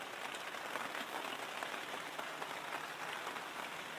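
Steady rain falls on a rainy morning in Panama, a dense even hiss of drops on surfaces, continuous and fairly soft, with no voices.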